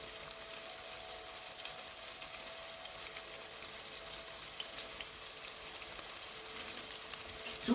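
Chicken pieces fry in a pan for chicken marsala, a steady, fairly quiet sizzle that crackles continuously with no break, close by.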